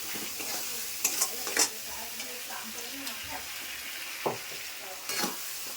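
Spice masala with potatoes fries in oil for a fish-roe fritter curry. A low, continuous sizzle is punctuated by close, scraping stirs of the spoon against the pan.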